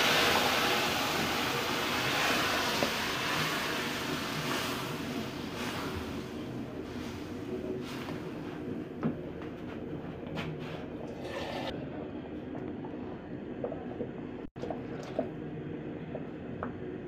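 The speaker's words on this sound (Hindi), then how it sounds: "अब हम इसमें डालेंगे दूध।" Milk pours into roasted semolina halwa with fried coconut in a hot pan, a steady liquid sizzle and bubbling heard close up and alone, fading softer toward the end.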